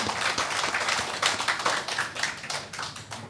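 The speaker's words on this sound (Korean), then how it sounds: "우리 큰 박수로 환영하겠습니다" A Korean church congregation claps in welcome for first-time visitors, a dense, steady patter of many hands that fills the room without a break.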